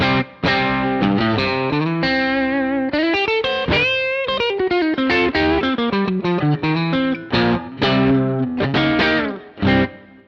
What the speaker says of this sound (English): I'm just playing straight clean through a Fender amp, and then I'm using this Ibanez tube screamer